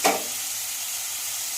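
Onions and green chillies fry in a hot pan, a sharp burst as they land giving way to a steady, close hiss of sizzling oil with no voices.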